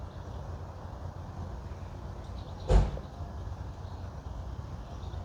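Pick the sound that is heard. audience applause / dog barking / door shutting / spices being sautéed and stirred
door shutting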